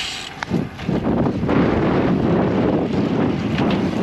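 Strong wind roars steadily over a microphone on a bike ride along a suburban street just after a rain shower, a loud continuous rushing with gusts that builds after the first half second.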